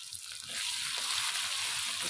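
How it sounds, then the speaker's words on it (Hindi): Spices with garlic, chopped red chilli and salt fry in a pan for aloo matar pulao, giving a steady broadband sizzle that swells after a brief quieter start and holds close and even. "इसको अच्छी तरह भून लेते हैं"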